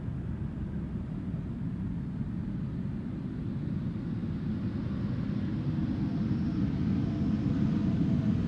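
A JetBlue Airbus A321neo arriving from Boston at Amsterdam Schiphol, a steady broadband jet rumble that holds constant and slowly swells a little louder over the whole stretch, with no voices.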